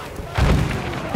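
A grenade explodes in the Battlefield 1 game with a short, heavy boom and low rumble, then a second thud follows near the end amid battle noise.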